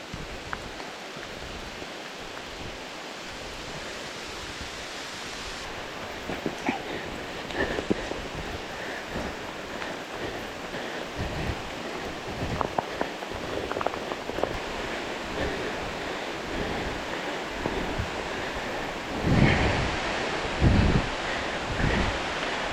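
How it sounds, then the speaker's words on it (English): Heavy rain pouring outdoors beside a creek during a thunderstorm, a dense continuous hiss mixed with wind buffeting the microphone and a few louder gusts near the end. "Big time rain."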